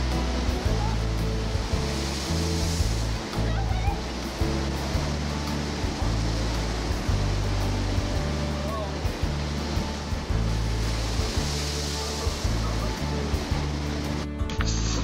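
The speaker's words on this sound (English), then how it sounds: "the waves are easily making their way over the top of it" Heavy sea waves surge over a pier in strong wind at the beach, a constant loud roaring wash of surf and wind with deep rumbling that barely lets up.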